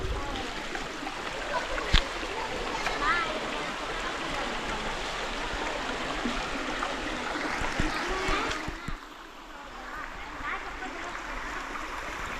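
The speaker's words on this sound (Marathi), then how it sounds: "पाण्याचा आवाज ऐका तुम्ही एकदम शांतपणे" A nearby river flows with a steady, full rushing wash that continues throughout and eases slightly toward the end.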